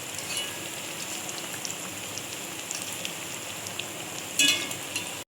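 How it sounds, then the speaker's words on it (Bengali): Lentil fritters (bora) fry in oil over a low flame on an earthen stove, giving a steady dense crackle and hiss with a brief louder pop of sizzling near the end. "কি সুন্দর বড়া ভাজা হচ্ছে দেখো"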